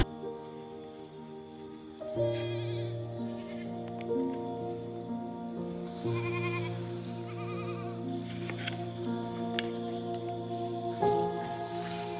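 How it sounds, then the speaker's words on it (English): A goat bleats at a farm milking station in a few drawn-out, wavering calls over steady background noise, fairly close and clear, with no talking. "I got a goat right here."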